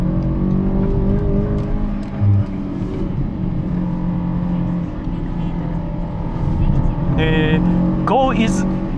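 Subaru R2 4WD climbing a mountain pass in Saitama, its small engine a steady low drone with a brief shift in pitch, heard from inside the car while someone speaks over it.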